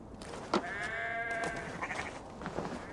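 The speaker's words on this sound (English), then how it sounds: "The sheep miss you, Gunhilda." Sheep bleat in the video game Assassin's Creed Valhalla, with a few wavering calls that rise out of a quiet farmyard ambience, soft and at a moderate distance.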